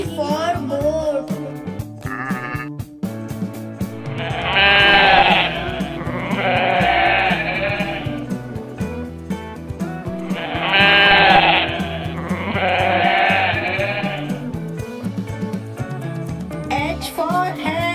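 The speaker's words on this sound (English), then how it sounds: "G for goat. G for goat." Two long goat-like bleats rise over a bouncy children's song with singing, each cry loud and wavering.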